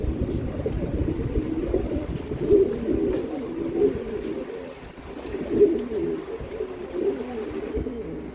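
A pair of adult white Granadino fancy pigeons coo in a low, rolling, repeated burble, close and steady over several swells, with a faint background hum and no talk.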